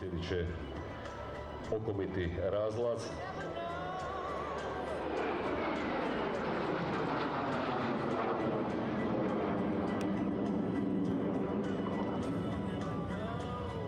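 A duo of classic French-German jet trainers flying at an airshow, a steady distant jet roar that swells and sustains, heard beneath a commentator's talk.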